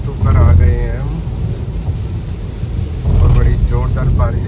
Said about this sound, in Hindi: और बड़ी जोरदार बारिश के साथ स्वागत हुआ है आज।